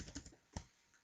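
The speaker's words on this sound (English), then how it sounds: "So if I just type in a few things here" A few quick, quiet keystrokes tap on a computer keyboard, a short irregular burst of clicks followed by one more distinct press, close but faint.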